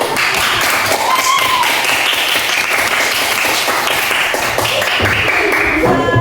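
Elementary school pupils in a classroom clap their hands together in a brief burst of close, sharp claps, with a voice or two mixed in.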